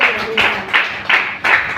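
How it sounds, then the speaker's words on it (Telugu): Bursts of applause and clapping from a church congregation come in four or five short, regular waves at close range, each rising sharply and then fading. "చప్పట్లు కూడా దేవుడు స్తోత్రం చెప్పు."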